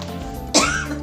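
A teacher coughs once, a short close burst breaking into a steady background hum.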